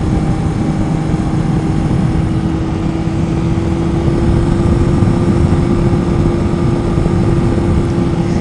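Honda Nighthawk S motorcycle ridden through curves in third gear, a loud, continuous engine drone mixed with heavy wind rush, steady throughout with no pauses.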